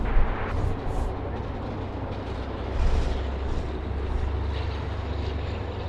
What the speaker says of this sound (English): the Thai 777 wide body, yes. Making its way down Alpha